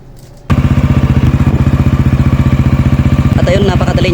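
A Honda XRM/Wave motorcycle engine with a freshly tuned carburetor fires on one kick after a brief quiet, then runs at a loud, close, steady idle with a rapid even thumping beat and some mechanical clatter.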